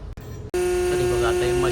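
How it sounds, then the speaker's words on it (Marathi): A household trash compactor switches on after a couple of brief clicks and settles into a steady, loud electric hum with a strong tonal drone and faint mechanical grinding underneath, heard up close. "मशीन सुरू झाली आहे असा आवाज येतो आहे"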